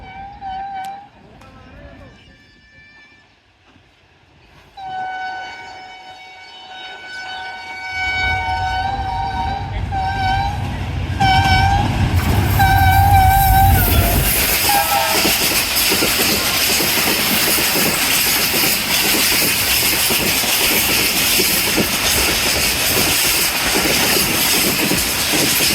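The Allama Iqbal Express passes Jungshahi railway station, its whistle sounding in repeated tonal blasts over a building rumble that swells into a loud, roaring rush of the passing train, with a voice talking over it early on.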